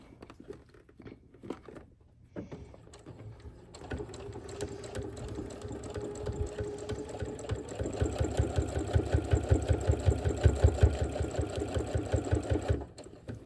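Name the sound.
sewing machine sewing quilt binding seam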